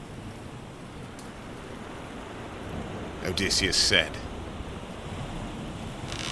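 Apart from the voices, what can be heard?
storm at sea with waves tossing a ship, audio drama effect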